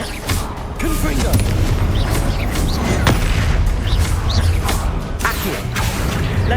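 Confringo blasting spell in Hogwarts Legacy on PS5, sustained loud booming and whooshing bursts with crackling impacts, heavy and dense throughout the clip.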